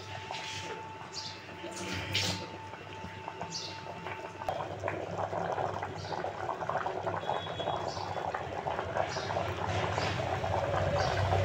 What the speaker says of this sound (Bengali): বাটি ধোয়া জলটাও দিয়ে দিলাম